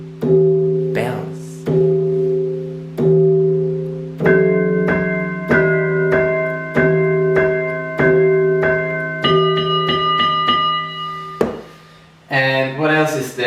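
A sequence of bell tones played on a Yamaha PSR-350 keyboard's bells voice, each struck note ringing with a bright metallic attack and slow decay, stepping through a melodic run before a brief flurry of higher notes at the end.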